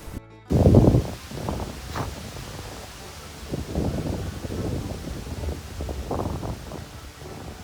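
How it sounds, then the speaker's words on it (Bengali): Strong wind gusts buffet the microphone by a river at Belari Char near Kolkata, a steady rough roar with a heavy burst at the start, as a voice speaks over it. "হাওয়াখানি দিচ্ছে, আশা করি তোমরা হাওয়ার আওয়াজ পাচ্ছ।"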